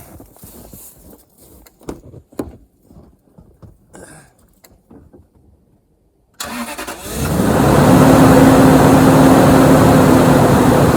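A car engine cranks and starts with the help of a budget IKITS jump starter in about 10-degree cold. Quiet handling noises come first, then the engine catches and settles into a loud steady idle close by.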